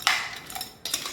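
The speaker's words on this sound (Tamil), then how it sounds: "அதையும் சேர்த்து நல்லா மிக்ஸ் பண்ணிக்கோங்க." A spoon scrapes and clinks against a pot as crab gravy with added water and salt is mixed. Two brief metallic scraping strokes sound up close with no talk.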